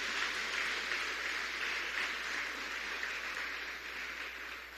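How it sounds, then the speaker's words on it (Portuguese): A church congregation applauding during a service, steady sustained clapping from many hands that holds evenly for several seconds before tapering slightly. "Dê um aplauso ao Senhor pela vida deles."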